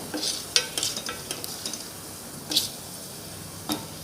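Fenugreek seeds frying in sesame oil while being stirred, a soft sizzle under a handful of light clicks and scrapes of a spoon against the pan, no talking.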